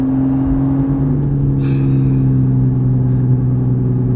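Aston Martin DBS Superleggera engine, a loud, steady deep rumble with strong tonal drone heard from inside the moving car, the pitch easing slightly partway through, with no talk over it.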